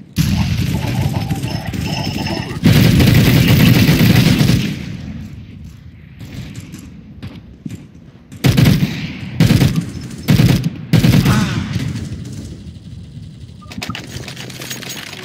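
Video game gunfire and grenade explosions in a counter-terrorist shooter: a long burst of rapid automatic fire, then a lull and a string of loud, sharp shots and blasts, with no talk.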